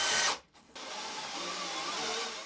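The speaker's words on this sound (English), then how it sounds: "thanks to the side handle, it's possible to guide the cordless drill precisely and safely" A DeWalt DCD999 cordless hammer drill drives a large 12 by 600 millimetre screw, whirring steadily and loudly after a brief stop-start near the beginning.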